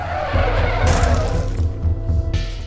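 A motorcycle skids and slams into another motorcycle, a continuous grinding scrape with two sharp, bright impact bursts, close and loud, with no voices.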